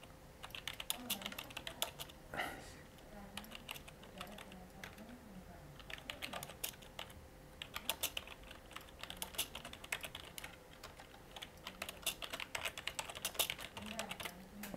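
Fast typing on a computer keyboard while writing a letter in MS Word, a dense, continuous patter of light key clicks with brief pauses, faint and close, with low talking underneath.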